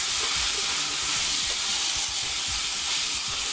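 Hamburger meat mixed with canned cream of celery soup is stirred in a hot pan, giving a steady, close sizzle with soft scraping strokes running throughout and no talking.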